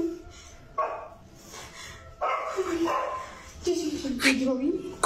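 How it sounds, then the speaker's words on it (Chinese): A dog barks in short bursts at night near a swimming pool, yips and whimpering barks recurring several times, fairly close, with people talking excitedly over them. "狗在叫，你懂通声，"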